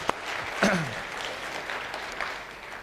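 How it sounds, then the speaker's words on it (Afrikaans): A Sunday church congregation applauds after a prayer, a continuous spread of many hands clapping at moderate volume, with a brief nearby voice or whoop rising over it early on. "kom ons gee die Here lekker hande klap"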